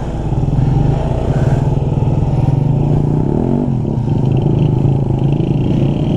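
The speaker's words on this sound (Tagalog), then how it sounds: "Pastor Chalo, napakagaling magmotor niya, pinapadaan niya lang" A motorcycle rides past at close range on a barangay road, its engine loud and steady throughout, with a rising rev and shifting pitch midway.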